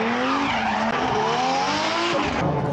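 Drift car skidding during qualification at the third round of the Igora Drive Drift Challenge 2023: a loud, continuous tire squeal with wavering pitch and a roaring engine, close and sustained throughout, with no voices.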